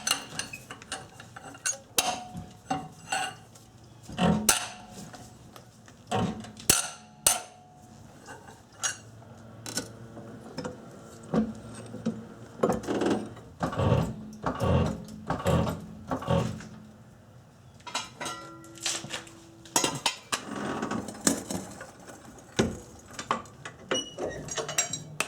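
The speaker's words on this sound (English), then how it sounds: "Place a piece of pipe over the wrench to give you extra leverage, and just loosen up the bolts." Factory lug nut wrench fitted with a length of pipe for leverage, loosening lug nuts on a car wheel: scattered metallic clinks, scrapes and clanks, close by, in irregular bursts with pauses between.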